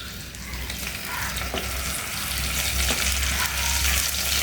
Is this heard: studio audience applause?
no